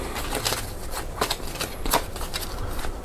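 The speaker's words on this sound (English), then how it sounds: "Give it a nice shuffle." A deck of cards is shuffled in a few quick riffling bursts, close and crisp, with no talking.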